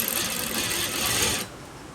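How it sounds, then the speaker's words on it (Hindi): A sewing machine runs fast and steady stitching a readymade kurta sleeve, close and loud, then stops abruptly after about a second and a half. "ये इस पे भी लपकी सिलाई मारेंगे"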